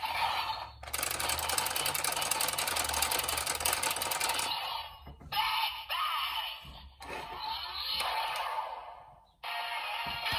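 DX Zenkai Buckle toy belt from Kikai Sentai Zenkaiger being cranked, giving a dense, close whirring and ratcheting clatter that runs steadily, then breaks off and restarts in several short bursts.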